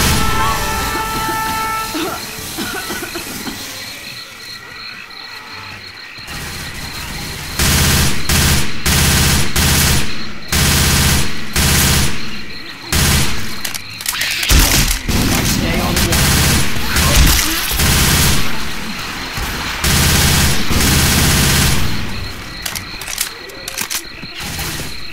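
Rapid bursts of gunfire from the zombie shooter Left 4 Dead 2 on the Swamp Fever campaign at Expert difficulty, loud, dense and repeated across most of the stretch, with game voices calling out now and then.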